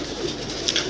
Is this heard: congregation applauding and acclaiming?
no